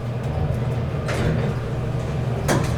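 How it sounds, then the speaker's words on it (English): Historic, modernized elevator doors in downtown Dallas slide open over a steady low machinery hum, with two brief scraping swishes of movement, close by and without talking. "Watch both these doors open."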